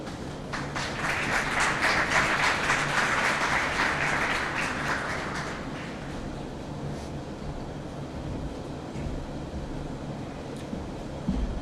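Audience applause at a county government luncheon, a dense broadband patter of many hands clapping loudly at first, then thinning and fading under room noise after about six seconds.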